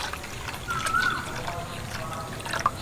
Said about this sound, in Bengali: প্রথমে যেহেতু জলটা একটু কম দিয়েছিলাম তার জন্য আরেকটু জল দিয়ে দিচ্ছি।